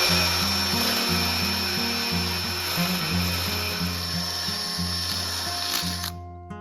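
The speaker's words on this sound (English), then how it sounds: "have to drill it out." A power drill whines steadily at close range, its pitch wavering as it drills out a threaded metal plate on a flip table caster mount, then cuts off abruptly at the end.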